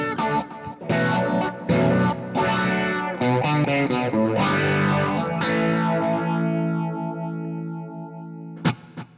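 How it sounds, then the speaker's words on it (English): An electric guitar played through a phaser pedal rings out in distorted chords and sustained notes, its tone sweeping and swirling, loud and close for several seconds before cutting off with a brief final strum. "Here I have my phaser."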